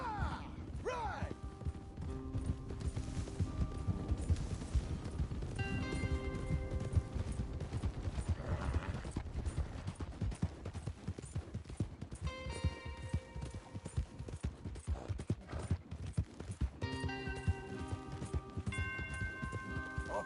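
Horses gallop in Red Dead Redemption 2, with a steady, rhythmic clip-clop of hooves running throughout amid game music and effects.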